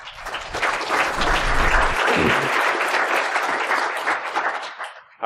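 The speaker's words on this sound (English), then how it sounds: "Put your hands together for our speakers." An audience applauds speakers at a hacker conference talk, steady loud clapping from a crowd that holds for about five seconds before cutting off.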